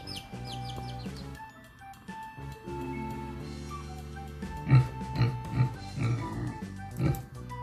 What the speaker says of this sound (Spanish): ¿Qué es? Cerdo.